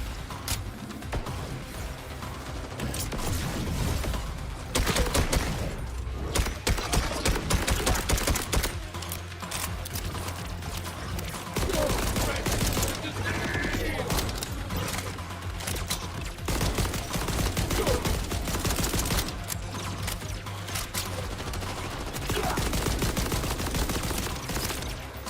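Sustained gunfire from the video game Borderlands 4: dense, rapid bursts of shots with a few short pauses over about twenty-five seconds, loud and close, with no talking.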